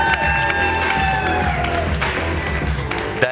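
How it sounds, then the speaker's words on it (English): Summit audience giving a round of applause for a panel moderator, loud clapping and cheering mixed with music tones that fade, a final sharp sound near the end. "So please give them a warm round of applause for the moderator"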